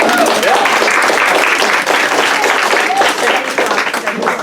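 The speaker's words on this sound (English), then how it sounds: "So please give yourselves a round of applause for being here" Loud, dense applause from a crowd at a progressive fall potluck gathering in Santa Cruz, California, close and continuous, with voices and cheers mixed into the clapping.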